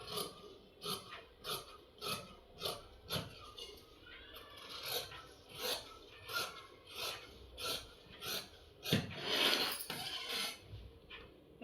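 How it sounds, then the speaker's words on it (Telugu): Scissors snip through folded blouse fabric in a steady run of crisp, repeated cuts, close and fairly quiet, with no talk over them. "ముందు సైడు 2 మడతలే కట్ చేసుకోవాలండి"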